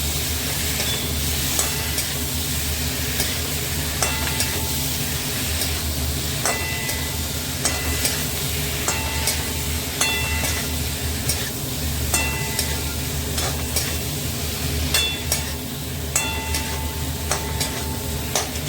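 Taro stolons (kochur loti) frying and being stirred in a pan: a loud, continuous sizzle runs throughout, with intermittent clinks and scrapes from the stirring utensil against the pan.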